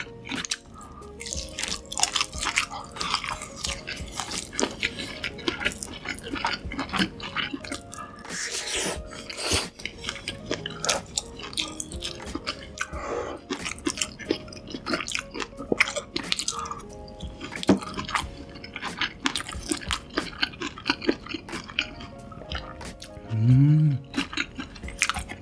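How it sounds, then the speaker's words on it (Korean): Someone chews and eats homemade food, cheese burger, cheese sticks, spicy fire noodles and chicken, with steady close-up soft crunching and wet mouth sounds, an ASMR mukbang with no talking. "한번 먹어볼게요."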